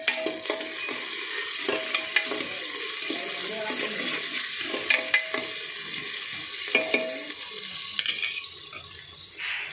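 Curry leaves frying in a pan for a mutton curry give off a steady broadband sizzle, with intermittent clinks and scrapes of a spoon stirring close by, no voices.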